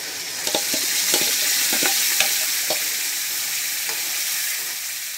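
Masala stirred into mustard seeds and golden-brown onions in a hot pan hisses loudly and continuously, with a series of quick, close ladle scrapes in the first half.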